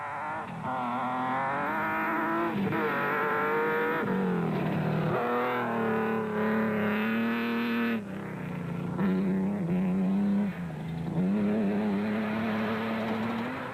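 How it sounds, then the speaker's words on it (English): A Class T Nissan rally truck races at the 2004 Nissan Dealer 400, its engine loud and close, revving up and dropping back through repeated gear changes with no talk. "Hannes Grobler and Richard Leek had a troubled run in the 3rd Class T Nissan."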